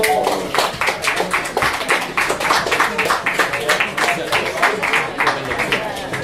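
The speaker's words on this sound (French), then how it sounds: "On l'applaudit, oui." Audience applause at an evening show, steady rhythmic group clapping in a close, even beat, fairly loud and continuous throughout with no break.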